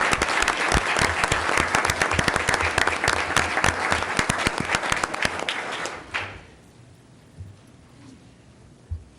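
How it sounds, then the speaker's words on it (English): A city council audience claps for community volunteers: about six seconds of dense, loud applause that tapers off abruptly and leaves a quiet room with a few faint stray sounds. "So I'd like to give them all a round of applause for all their efforts."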